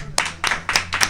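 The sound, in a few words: applause welcoming an arriving guest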